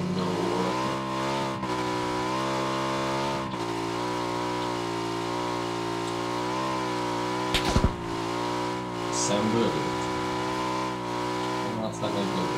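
Motorbike engine revving in a video game, a steady buzzing mid-pitched engine tone that rises and falls slightly, with a short sharp impact partway through and talk over it.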